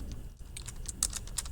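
Quick, light clicks of typing on a computer keyboard, close and fairly quiet, in a short irregular burst with no voices.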